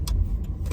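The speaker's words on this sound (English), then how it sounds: "This car letting me go." A car rolls past in New York City traffic, its engine giving a low, close, steady rumble with brief whooshes of movement.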